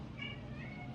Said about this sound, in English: My cat is meowing here.